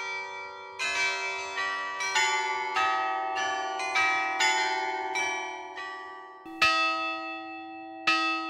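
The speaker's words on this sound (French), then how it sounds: "le carillon est équipé d'un nouvel instrument, doté cette fois-ci de 37 cloches fondues à Louvain" A carillon of 37 bells cast in Leuven rings out a slow melody, each struck note clear and resonant with long ringing decay overlapping the next, loud and alone.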